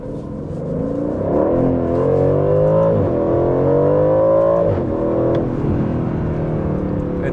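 An Aston Martin Vantage engine pulls hard in Sport Plus mode with strong induction noise, its pitch climbing through gears with brief dips between shifts, loud and close from inside the car.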